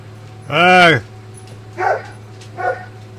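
Chippy the dog lets out one loud, drawn-out bark, then two shorter, quieter barks, indoors over the steady hum of a running air conditioner.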